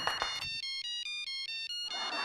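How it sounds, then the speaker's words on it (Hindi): A mobile phone ringtone plays indoors as a steady electronic melody of repeating tones, loud and clear. Brief noisy sounds bracket the tune at the start and end. "फोन बज रहा है"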